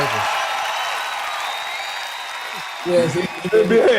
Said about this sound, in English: Ladies and gentlemen, let's get a big round of applause, please, for Damarcus